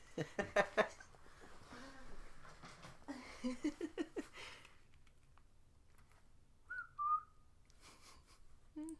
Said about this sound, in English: I won't whistle any more than that.